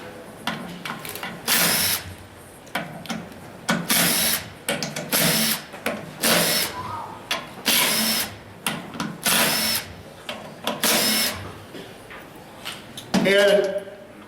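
A power tool with a 10mm socket whirs in repeated short bursts while removing bolts from a Honda 6-speed transmission during disassembly, each run lasting about a second with brief pauses between.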